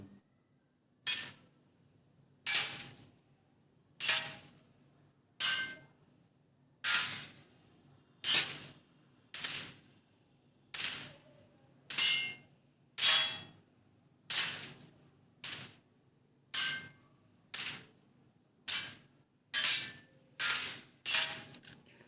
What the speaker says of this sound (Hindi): अब जो आवाज़ आएगी वो फ़ोन के कैमरा से होगी